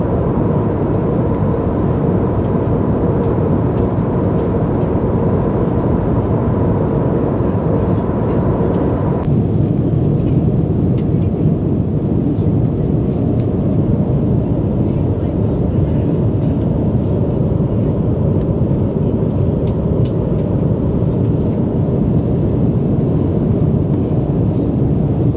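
Steady, loud airplane cabin roar on a short Srinagar to Delhi passenger flight, a dense broadband rumble that holds constant throughout with a slight drop in upper hiss partway through.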